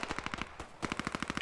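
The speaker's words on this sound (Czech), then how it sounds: "Tak to je dobrý MG, on tam střílí." Machine gun fire from a video game, Post Scriptum: rapid, evenly spaced bursts of shots, loud and close, with a brief pause in the middle before the firing resumes.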